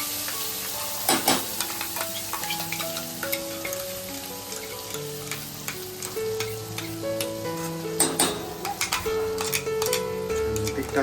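Onion, tomato, ginger and garlic paste sautéing in a hot pan with steady sizzling and repeated stirring scrapes, fairly close and loud, with faint background voices.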